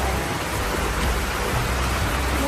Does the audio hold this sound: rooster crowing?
no